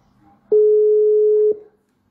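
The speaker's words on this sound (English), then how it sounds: "Your phone is ringing." A telephone tone sounds during a call, a single steady electronic beep lasting about a second, loud and clean against a quiet background.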